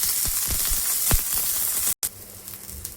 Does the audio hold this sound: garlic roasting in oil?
yes